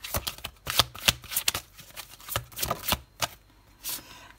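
A deck of tarot cards is shuffled and drawn by hand, with quick riffling bursts and crisp slaps of cards at close range in an uneven rhythm, with no talking.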